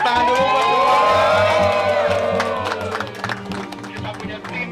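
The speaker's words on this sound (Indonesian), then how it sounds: "Tepuk tangan dulu buat semua." A film crew on a behind-the-scenes set cheering and applauding together, a burst of whoops and shouts with clapping that stays loud, then tapers into scattered claps and chatter.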